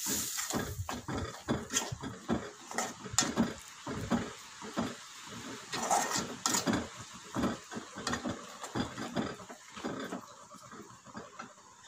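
A spoon clatters and scrapes in a pan as fish pickle masala is stirred together with vinegar, making a rapid, irregular run of close metallic knocks and scrapes that lasts throughout.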